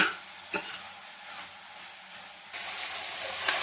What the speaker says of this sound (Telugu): ఇవైతే చూడండి ఆయిల్లో కొంచెం కొంచెం ఫ్రై అవుతూ కలర్ చేంజ్ అవుతుంది